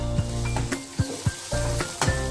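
Tomato, onion and fried coconut sauté in a pan for chola dal, a steady close sizzle broken by a few sharp scraping stirs and light clinks of a spoon against the pan.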